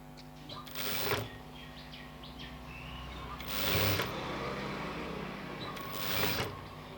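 Sewing machine stitching a blouse neck piece, heard as three short mechanical bursts spaced a few seconds apart against a quiet room background.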